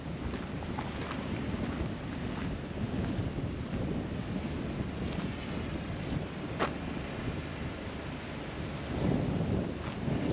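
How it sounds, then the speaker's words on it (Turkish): Steady, strong wind buffets the microphone at a cold, rainy winter campsite near Esenceli village, with a low rumbling roar and occasional gusts, no voices. "Sadece rüzgar sesi."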